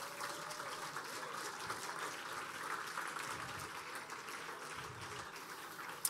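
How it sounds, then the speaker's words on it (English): Soft, steady clapping from an audience at the finale of a Mercedes AMG Motorsport eRacing competition, sounding distant and faint as it sustains evenly throughout. "now you give a big applause for Moritz Lerner"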